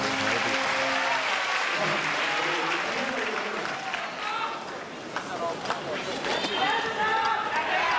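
A wrestling crowd at an FMW match applauds and cheers, loud sustained clapping and roaring near the start that thins into scattered claps and crowd noise, with commentators talking over it.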